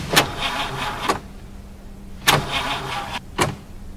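A car engine fails to start on a dead battery: three separate bursts of grinding cranking, each sputtering out without catching, with quiet gaps between the attempts.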